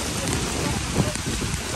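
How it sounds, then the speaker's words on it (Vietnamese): Heavy rain falling outside, a dense, loud, continuous wash of downpour filling the whole stretch with steady hiss and patter. "Mưa ở ngoài to lắm rồi các bạn."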